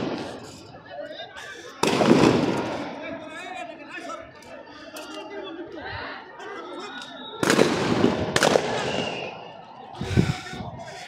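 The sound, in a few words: police sound grenades and tear gas shells fired at protesters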